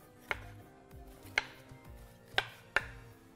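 Knife chopping onion on a cutting board, four sharp, distinct chops spaced unevenly across a few seconds, close and clear with no talking.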